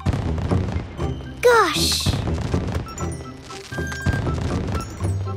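Cartoon fireworks go off in a children's show: a rising whistle followed by bangs, thuds and crackling bursts, mixed with a voice and background music.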